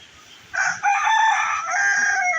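A rooster gives a single loud, close crow lasting a couple of seconds, rising sharply and holding, on a rural homestead where chickens perch in a tree.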